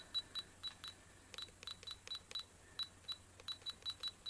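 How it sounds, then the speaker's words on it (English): Short electronic beeps from a Fuji S6000fd digital camera repeat in an uneven series, crisp and high-pitched, over a faint background hum. "Now it's got this kind of annoying beep."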